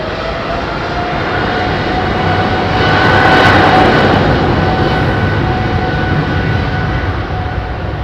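An Air India Boeing 777 climbs out from Heathrow's runway 27R, its jet roar loud and continuous and swelling slightly at its peak. A steady tonal whine rides over the broad rumble, with no voices.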